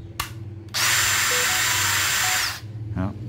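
A DeWalt cordless drill spins up at its fast speed setting, a loud steady whine that holds for nearly two seconds before winding down, with brief clicks before and after.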